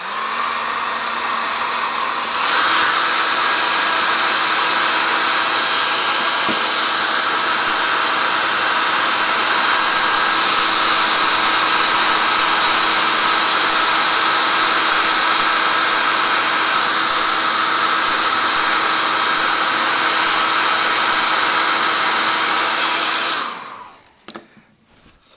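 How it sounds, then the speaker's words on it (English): A hairdryer blows hot air to melt wax on a carved wooden leaf, switching on with a sharp jump into a loud, steady whooshing roar that runs unbroken for about twenty seconds before cutting off. "what you need is a hairdryer to melt the wax"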